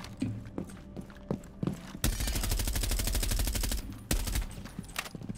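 Rapid automatic gunfire in Rainbow Six Siege, including a wall-bang through a surface: scattered single shots, then a dense sustained burst of about two seconds, a short pause and more bursts, loud and close.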